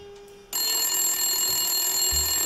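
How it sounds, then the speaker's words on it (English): A telephone rings in a video game scene, a loud, sustained electronic trill that starts abruptly and continues steadily, with low thumps underneath near the end. "Pick up the phone."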